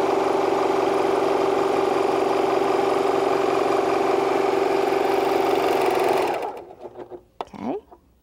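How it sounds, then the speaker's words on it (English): Sewing machine stitching lace onto fabric, a loud, steady motor whir running continuously for about six seconds before stopping, followed by brief quiet handling noises. "We place the outside edge of the lace just underneath that mark on our foot. And we sew, attaching the lace to the fabric."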